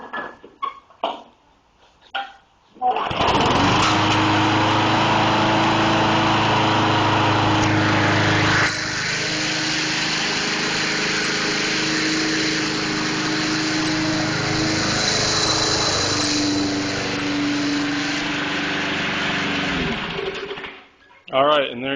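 A small lawn mower engine sputters to life after starting fluid is used and then runs steadily at a loud, high-pitched idle for about seventeen seconds before cutting off. Brief handling noises come before it starts.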